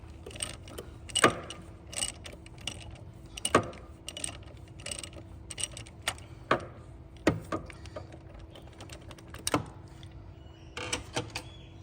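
A 25 mm socket wrench loosens the exhaust back pressure sensor on a 6.0 diesel engine, giving faint, irregular ratcheting clicks and metallic taps in short bursts over a quiet background, no talking.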